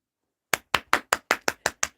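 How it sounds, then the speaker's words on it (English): Hands clapping: eight sharp, evenly spaced claps in a steady rhythm after a brief silence, close and loud with no other sound around them. "clap, clap, clap"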